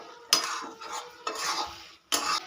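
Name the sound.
stirring roasted spice mix into jujube pickle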